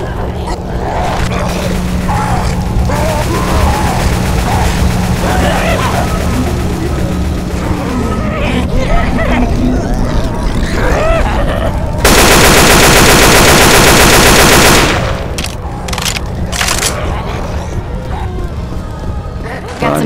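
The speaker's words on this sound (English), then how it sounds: "Hey, keep shooting!" Rapid machine-gun fire and gunshots in a shooter video game. They come as dense sustained bursts, with one loud continuous burst near the middle, while players talk over the shooting.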